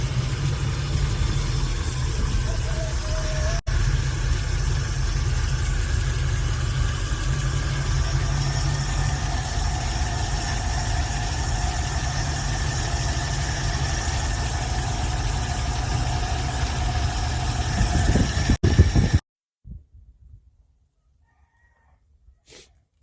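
A small-block hot rod engine idles with a steady low rumble while its carburetor choke is adjusted, running continuously for nearly twenty seconds before cutting off abruptly into near silence.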